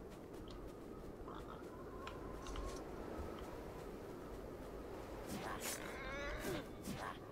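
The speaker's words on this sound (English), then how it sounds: "What was that noise? The boar?" A boar in the video game Prey of the Gods gives low grunting, lowing calls over a steady windy game ambience, fairly faint, with quiet speech-like sounds late in the clip.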